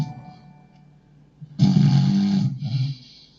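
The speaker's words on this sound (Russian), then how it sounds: "Как же сексуально ты храпишь" A person snoring: after a quiet stretch, one loud, rasping snore swells up and lasts over a second, then fades into a softer, breathy tail.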